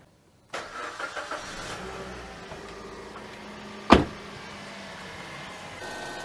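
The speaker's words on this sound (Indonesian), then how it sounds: "kita nyalakan mesinnya" A car engine cranks with a few rapid chugs and then catches to settle into a steady idle, with a sharp click midway, heard up close in a quiet space after a radiator coolant change.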